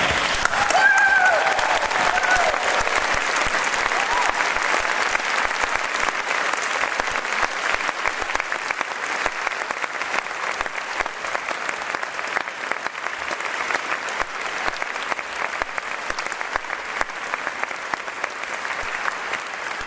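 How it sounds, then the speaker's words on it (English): Audience applause at an evening peace prize lecture, dense sustained clapping with some cheering that fills the hall and continues steadily for about twenty seconds. "Clap, cheer and stand."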